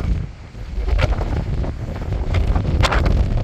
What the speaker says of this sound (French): le vent commence à être de dos